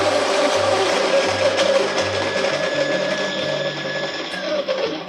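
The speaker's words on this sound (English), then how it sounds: "Today we're grinding coffee off of a Baratza Encore grinder." A Baratza Encore grinder grinds coffee at a medium coarse setting with a steady, loud mechanical whir and low rattling hum that continues throughout, with no voices.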